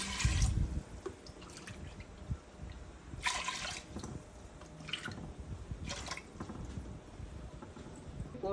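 Water poured into a pressure cooker holding moong dal, a steady trickling and splashing stream of liquid with a few louder bursts, fairly close and continuous throughout.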